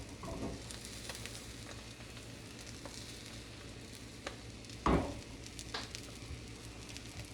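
A veggie omelet sizzles steadily in a frying pan, a constant close hiss with a few soft pops and one brief louder clatter of the pan partway through; no talking.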